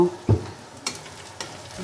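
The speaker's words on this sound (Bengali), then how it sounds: "গরম তেলে দিয়ে দিয়েছে তো হয়ে যাবে ভাজা" A pan hisses with a low, steady sizzle of frying in oil, punctuated by a thud and a couple of soft scraping stirs.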